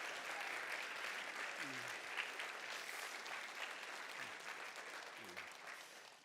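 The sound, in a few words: audience applause for the pitching teams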